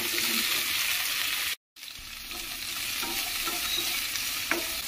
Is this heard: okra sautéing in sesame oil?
yes